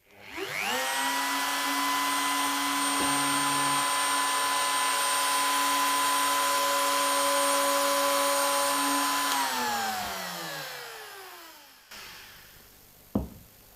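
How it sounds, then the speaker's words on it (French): A vacuum cleaner runs in a workshop during a router comparison, a loud, steady whine close by that holds for about nine seconds and then spins down, followed by a few small knocks. "j'ai bien allumé l'aspirateur"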